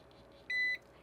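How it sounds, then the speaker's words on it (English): A single short electronic beep sounds as a handheld anti-aging face lift device switches on, clear and close against faint room noise, with no voices. "And you hear a little beep."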